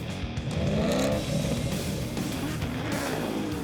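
A V8 engine revs hard and close, a loud rough roar that climbs and holds for a few seconds with no voices.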